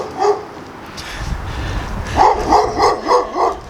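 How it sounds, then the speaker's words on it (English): Dogs bark nearby, loud and close, with one early bark followed by a rapid series of about five rhythmic barks toward the end. "there's dogs everywhere barking"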